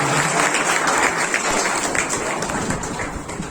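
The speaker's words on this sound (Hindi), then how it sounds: "जोरदार तालियों से उनका स्वागत करते हैं" Loud applause from a church conference congregation in Lucknow welcoming a visiting pastor, dense sustained clapping filling the room, fading slightly toward the end.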